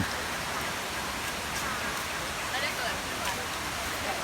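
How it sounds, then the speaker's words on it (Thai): Krathing Waterfall in Chanthaburi, Thailand, fills the air with a steady, broad hiss of falling and rushing water, constant and moderately distant, with no voices heard over it. "น้องเปเป้ เดินตะลุยน้ำตก สำรวจน้ำตกกระเทง"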